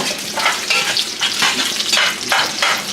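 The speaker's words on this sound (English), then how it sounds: "I'm going to give it a quick stir." Noodles tossed with olive oil are stirred in a pan, making loud close swishing, scraping strokes over a steady frying sizzle, in rhythmic bursts roughly every half second, with no speech.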